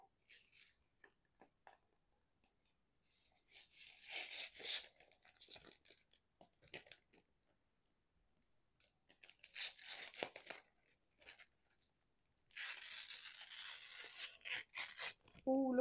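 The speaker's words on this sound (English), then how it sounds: "And then we will take the dust sheet off the back of him." A protective dust sheet is peeled off the back of a finished diamond painting in several bursts of crisp tearing and crinkling plastic, close and fairly faint, separated by quiet pauses.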